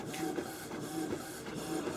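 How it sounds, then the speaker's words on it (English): An HP desktop inkjet printer prints a chessboard, its mechanism shuffling and whirring in repeated passes, close and steady with no talk. "it'll start growling now, and it'll print out one half of the board."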